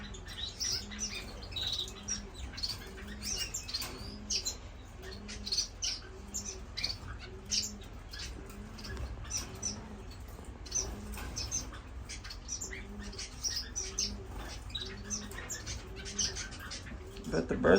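Finches in an indoor bird room chirp and twitter repeatedly, with scattered fluttering and a low steady background hum underneath.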